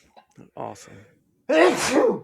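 A single sharp, loud sneeze from a person close by. It comes after a short burst of nearby talk and a brief pause.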